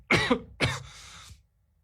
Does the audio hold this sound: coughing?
yes